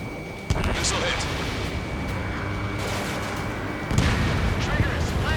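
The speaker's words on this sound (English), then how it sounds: "Missile hit." Missile impacts in the Ace Combat 7 jet combat game: a sudden blast, then a steady roar of engines and explosions that swells again toward the end, with radio voices talking over it.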